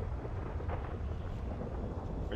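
Thunder in a GTA V LSPDFR thunderstorm, a continuous deep rumbling roar with a dense low-end wash and rain-like hiss, steady and fairly loud throughout.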